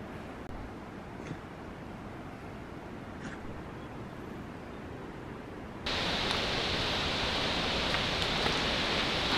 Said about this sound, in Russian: Приближаюсь к водопаду